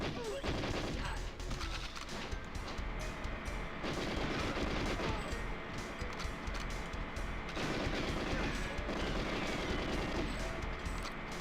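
Loud weapon fire in GoldenEye 007: continuous, dense gunfire and crashing impacts over busy game sound, keeping an even, heavy level throughout.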